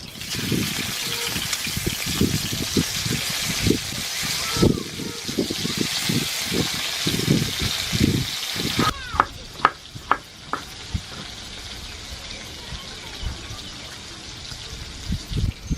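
Pieces of hilsa fish drop into hot oil in a pan and fry, with rhythmic spatula scrapes and bursts of sizzling early on, then sparser clinks and taps as the frying quiets.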